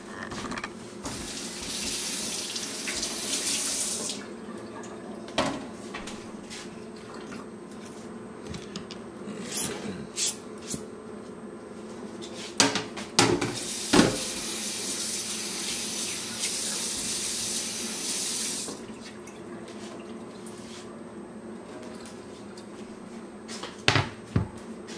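Tap water runs over a fresh pineapple in a kitchen sink while it is rinsed, a steady splashing broken by brief knocks and handling noises, with a second burst of running water in the middle.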